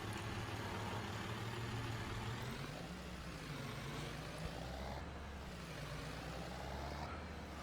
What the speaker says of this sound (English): Let's jump in the tractor.